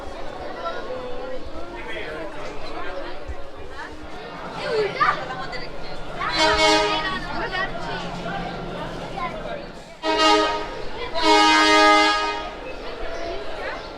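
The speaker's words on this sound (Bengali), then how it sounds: "ট্রেন উটি স্টেশন ছেড়ে যাচ্ছে" The Ooty toy train pulls out of Ooty station, its horn sounding in bright bursts over a busy platform, with several people talking and chattering close by throughout.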